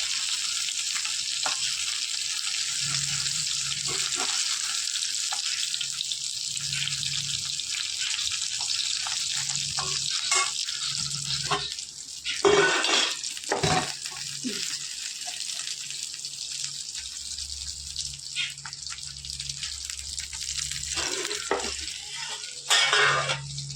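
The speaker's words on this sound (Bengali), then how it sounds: "পটল ভাজার যে তেলটা ছিল ওই তেলের মধ্যে আমি মাছটা ভাজা করে দিচ্ছি" Fish fries in dark, reused oil left over from frying pointed gourd, giving a steady close sizzle and crackle throughout, with occasional louder spits and clatters from stirring.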